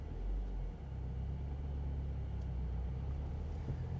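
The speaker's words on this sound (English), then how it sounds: "you release the foot brake, and then you start putting some gas into it" Low, steady engine rumble from a manual car in first gear pulling away from a stop on a hill as gas is applied, heard from inside the cabin, continuous and fairly loud with no talking.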